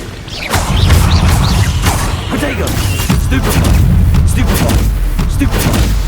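Spells are cast in a video game, each one a loud, punchy burst or boom. The blasts come in quick, irregular succession, close and forceful, with voices in the mix.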